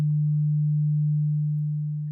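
Steady low sine wave test tone held alone for about two seconds, clean and even, fading slightly toward the end.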